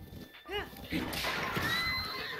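Horse neighing in the Breath of the Wild video game, a short whinny rising over game music and effects, with someone talking excitedly around it.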